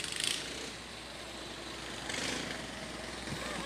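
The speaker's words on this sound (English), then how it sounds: "I don't know if you're a car guy and you appreciate that kind of sound, or if you're thinking, oh, something needs a tune-up, but boy, the roar of that engine." A vehicle engine rumbles at a Fourth of July festival parade in Southport, North Carolina, a steady low roar with slight surges, moderately distant and without talk.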